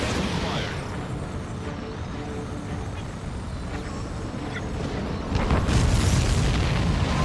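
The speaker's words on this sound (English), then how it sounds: "Did you see that explosion? Looks like that's one of them down." A deep, rumbling boom of an aircraft being shot down in Ace Combat 7: Skies Unknown rolls through a noisy game scene, swelling louder near the end, with voices faintly underneath.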